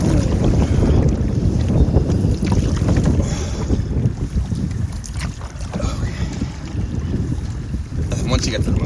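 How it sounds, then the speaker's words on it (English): Strong wind roaring and buffeting the microphone while paddling a canoe on open water, loud and continuous with paddle and water splashes mixed in. "if you ever get fully perpendicular to the wind like that, you are in trouble. Strong wind."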